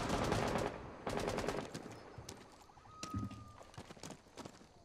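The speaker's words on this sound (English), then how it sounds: "Shoot through the window." Gunfire fired through a window in Rainbow Six Siege, a few loud bursts of shots with pauses in between, then sharper scattered shots and game effects.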